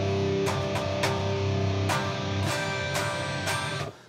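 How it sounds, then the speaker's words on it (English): A dense, high-gain distorted electric guitar through a simulated Mesa Boogie amp plays chugging rhythm chords with regular accented strikes, loud and close, before fading at the end. "It's a very high gain rhythm sound."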